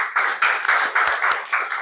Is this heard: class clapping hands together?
yes